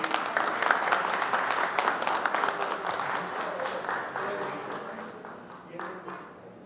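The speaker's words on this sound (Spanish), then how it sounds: "Fuertes los aplausos para recibirlos." An audience at a book presentation during an international book festival applauds to welcome the presenters; individual claps stand out at first, then the clapping gradually thins and fades.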